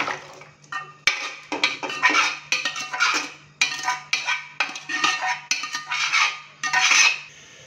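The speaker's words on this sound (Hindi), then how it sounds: "अभी हम इसको प्रेशर कुकर से निकाल के तो एक खुले से बर्तन में ट्रांसफ़र करते हैं" Cooked beef being moved from a pressure cooker into an open pot, with repeated metal spoon scrapes and clanks against the cookware in an irregular rhythm, close and fairly loud, with no talking.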